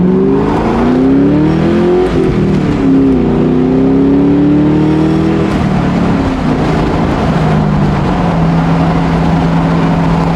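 Engine of a car pulling away, heard from inside the cabin, a loud steady drone whose pitch rises through the gears with a shift partway through, then settles into a lower cruising hum.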